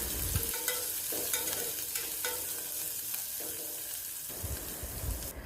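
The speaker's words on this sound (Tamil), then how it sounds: "கருவேப்பிலையும் சேர்த்து வெங்காயம் கொஞ்சம் செவக்கிற வரைக்கும் வதக்கணும்." Onion, garlic, slit green chillies and curry leaves sautéing in a pan for samba rava kichadi, heard as a close, steady sizzle broken up by repeated scraping strokes of a spoon stirring, with no talk.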